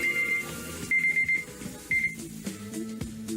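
An alarm clock rings in repeated high electronic bursts, three short chirping rings spaced about a second apart, clear and close over a busy, music-like background.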